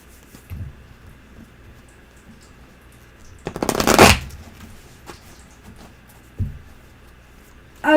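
A deck of tarot cards riffled in one quick burst of dense fluttering clicks, close and loud, amid otherwise quiet surroundings with a few soft bumps.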